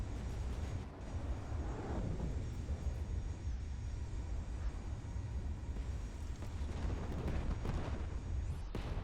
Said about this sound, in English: And the missiles are moving in to deal with the copper.